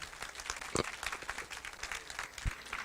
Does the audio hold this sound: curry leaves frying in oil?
no